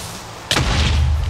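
Creeper blowing up in Minecraft: a sudden sharp blast at about half a second, then a deep rumbling boom that lingers loudly to the end.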